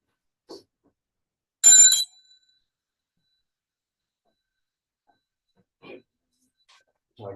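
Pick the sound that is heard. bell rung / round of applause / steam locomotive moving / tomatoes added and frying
bell rung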